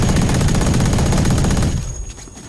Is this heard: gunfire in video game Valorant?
yes